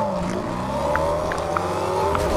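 A car driving in a video game, its engine droning loudly and steadily with slowly climbing pitch, broken by a few short clicks and knocks.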